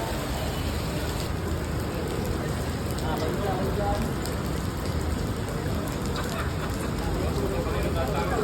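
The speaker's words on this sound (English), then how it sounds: "And it's raining." Steady rain patters continuously on surfaces in Kuala Lumpur, a dense even hiss with occasional drips, while faint voices murmur underneath.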